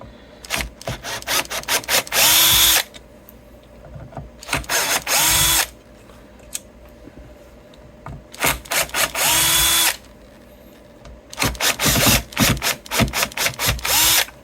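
A Bosch power drill whirs in repeated bursts of a few seconds each, close and loud, separated by quieter scraping and handling noises.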